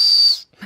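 A small safety whistle on a budget running hydration vest gives one short, shrill, steady blast up close, then cuts off, followed by a faint rustle.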